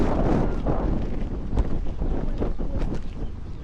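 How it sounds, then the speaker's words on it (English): Strong gusting wind buffets the microphone while walking through a desert ghost town on the way to Las Vegas, a continuous loud low roar with surges and no speech. "Today's so windy."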